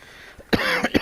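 Two or three close, fairly loud coughs from a person playing Assassin's Creed Odyssey after dinner, preceded by a faint breathy throat sound; no talking.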